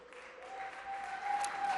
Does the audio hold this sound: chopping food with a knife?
no